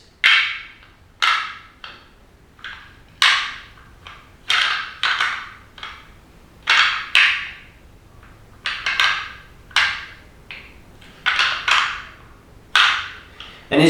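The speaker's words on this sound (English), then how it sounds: "It's just kind of real light rattling, and it kind of sounds something like this." Whitetail deer antlers are rattled lightly together, giving a series of quick, dry clicking and clattering bursts at close range with short pauses between them and a quiet background.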